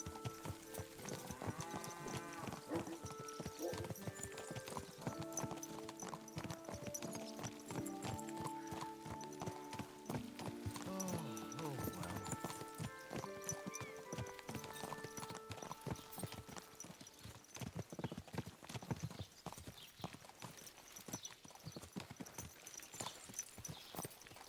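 Horse hooves clip-clop steadily while riding in the medieval role-playing game Kingdom Come: Deliverance II, a continuous trotting rhythm running under loud orchestral music throughout.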